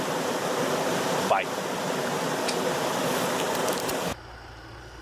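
Steady broadband rush of the Tranquille River flowing, loud and close for about four seconds, with a brief spoken word over it before the sound cuts to a quieter background.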